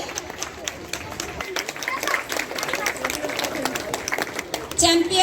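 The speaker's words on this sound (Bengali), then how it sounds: "আমাদের প্রথম রানার্স আপের জন্য করতালি" A crowd claps for a first runner-up at a Bangladesh Victory Day event at the Bangladesh embassy in Jeddah, a scattered burst that builds and continues, with voices chattering and cheering through it.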